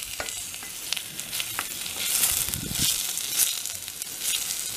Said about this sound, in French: je vais faire la bouger dans la casserole comme ça pendant une durée de 2 minutes à 3 minutes maximum